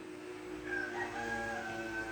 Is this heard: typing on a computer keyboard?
no